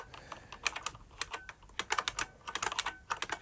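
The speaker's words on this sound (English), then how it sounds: "Now come on, hitting the wrong keys all the time." Quick, irregular typing on a computer keyboard while coding, with bursts of sharp key clicks and brief pauses, close and clear with no talking.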